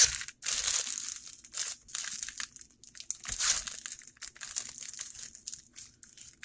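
Plastic gift ribbon curled with scissors while finishing a Scentsy caramel apple gift bundle, giving close, repeated crinkly scraping strokes in short bursts with brief pauses between.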